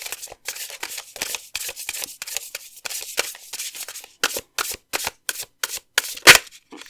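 Tarot cards shuffled by hand in quick repeated riffles and taps, a steady run of short crisp bursts with brief gaps, close and clear with no talking.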